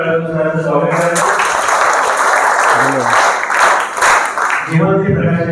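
Loud, sustained audience applause welcoming a guest speaker at a student motivational seminar, a dense wash of clapping lasting several seconds, with brief speech and music-like tones at the start and end.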